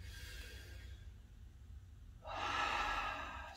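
A deep inhale during a taekwondo warm-up stretch, heard as a broad airy rush that swells in after a quiet start and holds steady to the end, moderately close with no talking.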